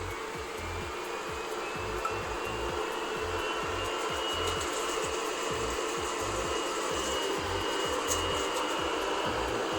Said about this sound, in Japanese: 実際にロボット掃除機が動いている様子をご覧いただければと思います